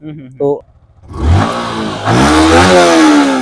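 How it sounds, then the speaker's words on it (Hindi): A Yamaha R15 V4 liquid-cooled motorcycle with about 30,000 km on it revs loudly close by, its exhaust climbing and holding in a strong roar that then rises again. A brief spoken word comes just before the revving starts. "इसका जो एग्जॉस्ट है, हमारे व्यूअर्स को इसका एग्जॉस्ट सुनना बहुत पसंद है"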